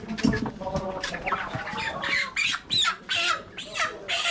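Chickens squawk loudly at a market stall, a series of harsh, repeated bursts, with faint talk from the vendor and shoppers behind them.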